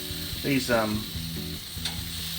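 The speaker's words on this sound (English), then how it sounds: "it's sizzling nicely" Sautés sizzle and crackle on a barbecue fitted with hot lava rocks, a steady bright hiss with a few louder spits as the food is laid down, close up, and a voice speaks briefly over it.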